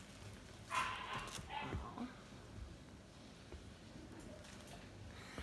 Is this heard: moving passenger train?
no